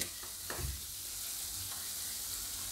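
Garlic cooks in a pan for Kathiyawadi tempered garlic with a dense, steady sizzle and a few soft knocks from stirring near the start. Close and continuous, with no voice.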